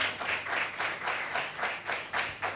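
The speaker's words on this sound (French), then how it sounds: "Kael, qu'on applaudit très fort." An audience claps for a magician on a French television variety show, a dense, continuous round of applause that swells in rhythmic pulses, with no voices over it.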